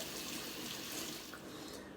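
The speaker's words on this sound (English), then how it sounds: "So we're going to wash it off with some fresh water." Tap water runs steadily into a sink, rinsing fresh cilantro for salsa, a constant close hiss with no talking.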